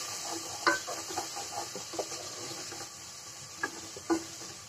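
A coriander powder spice mix is stir-fried in a pan, with a soft sizzle and several sharp clicks and scrapes of a utensil against the metal, quiet and close.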